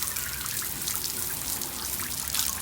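Shower water pours and splashes steadily at close range, a dense even hiss that holds without pause; no voices are heard.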